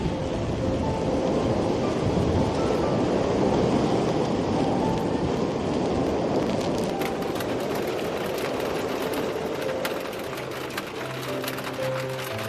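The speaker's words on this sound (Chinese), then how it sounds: "狂风在呼啸" A howling gale on a stormy night of wind, heavy rain and hail, heard from a camper van: a dense, roaring rush of wind noise that swells and eases, with faint tonal sounds entering near the end.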